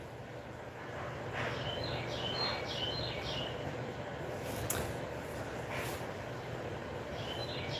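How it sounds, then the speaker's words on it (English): A bird calls outdoors in repeated bursts of chirps, loud and lively against a steady background rumble, with the calls recurring in clusters across the stretch. "Yeah, that bird's going crazy out there"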